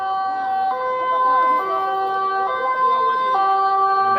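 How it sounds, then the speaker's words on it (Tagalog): An ambulance siren wails loudly and close by, its tone stepping between pitches in a repeating cycle, with faint voices of a crowd underneath. "May ambulansya na."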